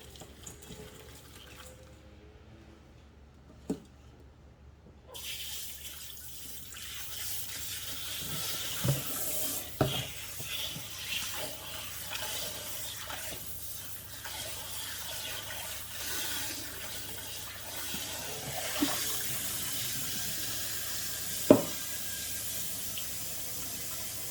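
Tap water runs steadily into a kitchen sink as salted shrimp are rinsed, a continuous splashing hiss broken by a few soft knocks and clinks.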